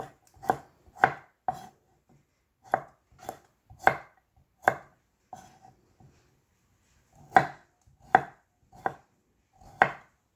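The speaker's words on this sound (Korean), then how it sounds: "여기 밤을 밤을 이렇게 이렇게 썰어줍니다." Knife chopping chestnuts on a cutting board for a Korean chestnut pickle, crisp close thuds in uneven bursts of two or three strokes with short pauses between, no voices.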